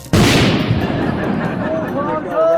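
An electricity transformer blows up as a comedy sound effect: one loud, sudden blast that rumbles and fades over a couple of seconds, with faint ringing tones at the tail.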